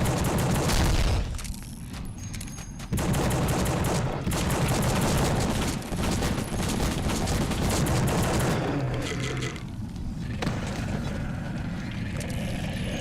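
Rapid bursts of gunfire from marksmen in the video game The Suffering, loud and dense, with booming shots and a continuous rattling fusillade across the whole stretch and no talk over it.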